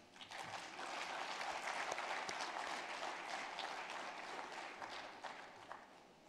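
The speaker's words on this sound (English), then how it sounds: "il faut applaudir Monsieur le Premier là" A seated audience at an evening formal event applauds the Premier of Gauteng, a steady wash of clapping that swells, holds for several seconds and then tapers off.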